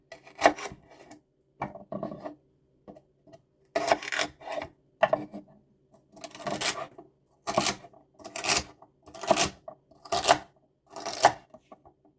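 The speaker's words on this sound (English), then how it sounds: "we'll just cut the celery into approximately the same size pieces as the carrots" A kitchen knife chops celery for a red bean lentil soup on a board, with bursts of crisp cutting strokes in quick clusters separated by short pauses. The sound is close and fairly clear, and no one talks.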